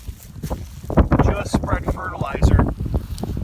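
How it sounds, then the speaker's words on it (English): Gusty wind buffets the microphone on an open farm field near a tilled plot, loud rumbling bursts rising and falling throughout with a voice speaking over it. "the wind just kicked up"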